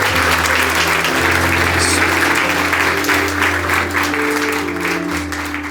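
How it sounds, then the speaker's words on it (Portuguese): Sustained applause from wedding guests for the bride and groom at a church ceremony, a steady dense clapping that fills the room at even loudness throughout. "Vocês podem dar um aplauso pela vida deles?"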